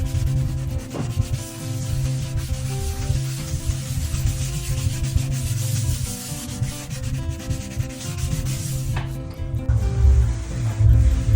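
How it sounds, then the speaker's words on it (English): Steady, continuous scrubbing of porcelain wood-look hexagon tiles with the abrasive Brillo pad side of a sponge and white vinegar, a close, dense rasping rub that keeps going without pause. "I used the Brillo pad side of a sponge and white vinegar to remove what's left and clean the"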